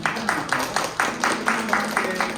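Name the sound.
congregation applauding a first-time visitor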